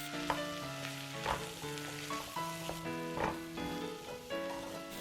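Butter and flour sizzle softly in a pot while being stirred for a clam chowder roux, a steady low frying hiss under a gentle musical backing, with no talking.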